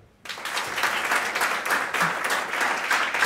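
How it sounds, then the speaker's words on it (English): Comedy show crowd in Poland clapping on cue: after a brief silent moment, applause bursts in and holds steady as a full, lively wash of many hands for the rest of the clip. "give me a clap if you're from abroad."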